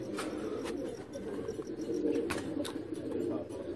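Golden pigeon kept with a Teddy female on a rooftop loft, cooing steadily in low, throaty rolls, with other pigeons murmuring and a few sharp clicks and flutters around them.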